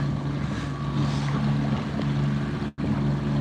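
A steady engine drone with low throbbing tones holds throughout as a passenger ferry passes on San Francisco Bay, with a brief dropout near the end.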